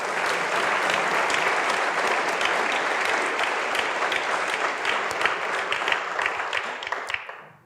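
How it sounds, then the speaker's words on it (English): An audience at a talk with a British rock climber gives a long, full round of applause, dense and steady for several seconds before tapering off at the end. "please, can we have another round of applause for James McHaffie?"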